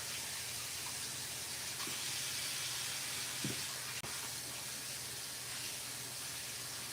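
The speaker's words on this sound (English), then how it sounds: "I'm gonna wash my hands real good." Tap water runs steadily as hands are washed in a home kitchen, a close, continuous broadband hiss with faint splashes and small clatters, no talking.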